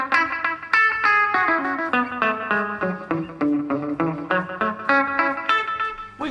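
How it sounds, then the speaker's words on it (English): An electric guitar in a small recording studio is plucked through an echo effect, each note repeating and decaying in a rhythmic series of clear, ringing tones that fade and overlap, heard alone without talk. "So I play one note and it echoes."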